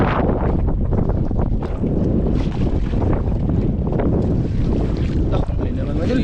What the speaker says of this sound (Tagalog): Ang lakas ng hangin mga idol.